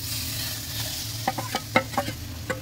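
Stirring spice paste into dhokar dalna in a pan, with a faint steady sizzle under a few sharp scraping strokes of the spoon against the pan, close and clear.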